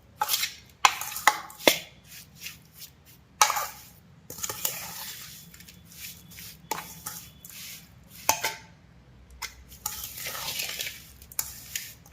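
Carrots being mixed by hand or spoon for a Kathiyawadi-style carrot and chili pickle, with scattered scraping and knocking against a bowl in irregular bursts, close and moderately loud, no talking.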